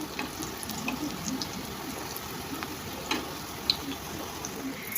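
Gram-flour-battered filling frying in hot oil gives a steady, soft crackling sizzle with scattered small pops, close and continuous throughout.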